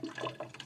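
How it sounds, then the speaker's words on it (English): Water from a lab graduated cylinder is poured down a sink drain, a brief near splash and gurgle lasting under a second. "Don't forget that cleanup involves pouring this water down the drain"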